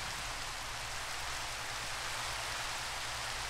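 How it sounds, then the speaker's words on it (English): Steady rain hisses continuously in the game Minecraft, an even, soft wash of falling drops with no other sounds. "Oh, no, it's raining."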